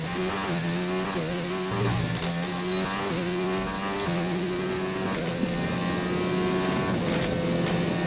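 Simulated Formula 1 race car engine from a McLaren in an F1 video game, a steady high-pitched whine rising and dropping through gear shifts, loud and continuous without talk.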